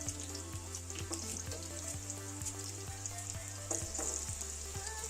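Minced garlic and garden ingredients fry in a pan, a steady close sizzle with a low hum beneath and soft regular ticks throughout.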